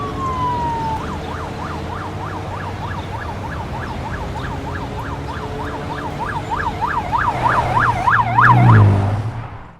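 An emergency vehicle siren wails in a rapid, steady rise-and-fall cycle for nearly ten seconds, loud and close over road traffic rumble, swelling nearer toward the end.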